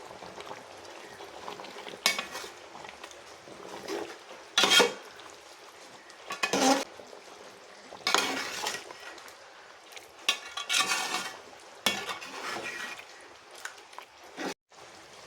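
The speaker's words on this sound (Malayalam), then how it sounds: "കറി മസാല കൂടെ ഇട്ട് കൊടുത്തിട്ടുണ്ട് ഇനി നന്നായി ഇളക്കി കൊടുക്കാം" Chicken curry with curry masala is stirred in a pan, giving intermittent scraping and clinking strokes of a spoon against the metal over a soft sizzle, close and fairly quiet.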